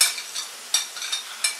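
Food sizzles in a ceramic frying pan with a steady hiss, broken every half second or so by a soft scraping stir. The sound is close and moderately loud, with no voices.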